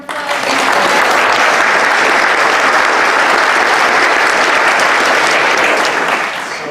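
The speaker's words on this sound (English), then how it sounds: "so we can give him a round of applause" A crowd at a church hosting a student march event applauds the pastor, a dense, steady round of clapping that holds loud for several seconds and then begins to fade.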